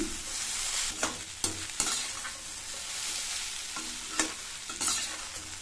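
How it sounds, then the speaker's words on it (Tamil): A spatula stirs raw banana pieces cooking in a pan with a soft steady sizzle underneath, several distinct scraping knocks recurring every second or so, quiet and close, with no speech. "இந்த மாதிரி கிளறி கிளறி விட்டோம்னா எல்லா காயுமே நல்லா ஒன்று போல வேகும்."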